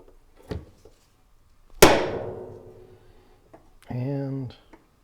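A metal punch struck with a hammer to dent a marking spot before drilling, one sharp ringing clang followed by a lingering metallic decay, with a softer knock before it and a short buzzing hum after.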